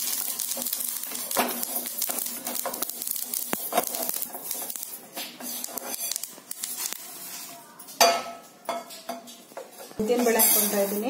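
Spices dry roasting in a pan for Karnataka-style bisi bele bath powder, heard as rattling, clinking stirs of the utensil against metal and crackling seeds, close and busy, with a voice speaking alongside.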